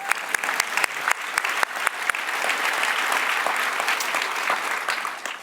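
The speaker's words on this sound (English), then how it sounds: "applause" Audience applause at Figma's Config conference, a live crowd clapping steadily and densely throughout, with a few sharper individual claps standing out early on before it settles into an even wash of sound.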